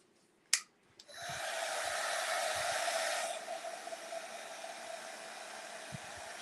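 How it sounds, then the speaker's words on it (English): A heat gun dries Mod Podge on a Christmas nativity craft: a click, then a steady close airy roar that drops slightly in strength after a couple of seconds and keeps blowing. "I'm going to hit that with the heat gun"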